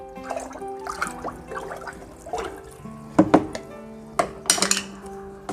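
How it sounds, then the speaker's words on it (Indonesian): Liquid sloshing and clinking in a container as nutrient solution A for hydroponics is stirred into water, with irregular scraping and knocking bursts, louder strikes toward the end, no talk. "A kita masukkan, kita aduk sampai merata."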